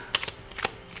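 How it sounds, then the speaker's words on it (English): A deck of cards is shuffled close by in two quick, crisp riffling bursts, each a fast papery flutter, within about a second. "Well, no, we need to shuffle this."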